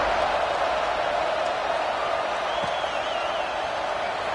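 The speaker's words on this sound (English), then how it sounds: "this crowd is buzzing after that last score" Steady, dense roar of a football stadium crowd buzzing after a touchdown at Auburn vs Clemson, a continuous broad wash of cheering and chatter with no pauses.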